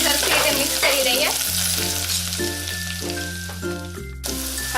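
Chopped chilli is stirred and mixed in a frying pan while making spicy Kathiyawadi kadhi. A steady, close sizzle runs throughout with soft stirring, under continuous tonal background music.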